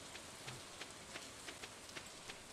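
Rain falls steadily in the Stardew Valley farming game, a soft continuous hiss with faint scattered drop taps and no voices.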